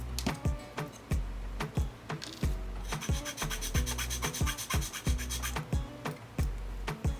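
Repeated rasping strokes of a file smoothing the edges of a cut hole in a model fuselage, steady back-and-forth scraping with sharp thumps at each stroke, close and fairly loud throughout with no talk.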